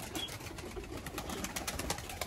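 Birds chirp and coo faintly in the distance against a steady outdoor background hiss.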